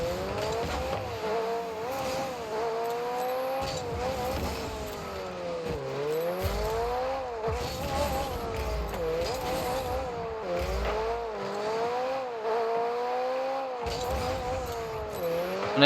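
A McLaren car engine in Rocket League drones loudly and steadily, its pitch repeatedly sweeping up and dropping back as it revs and shifts, with occasional brief tire-like squeals, alone without talk.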